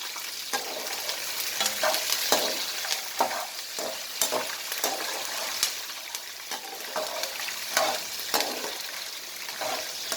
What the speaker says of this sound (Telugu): వేరుశనగ గుళ్ళు ఎగినాకండి ఈ మిరపకాయలు వేసేసుకొని కొంచెం వేపుకోవాలి. బాగా పచ్చిమిర్చి డీప్ ఫ్రై అయిపోవాలి.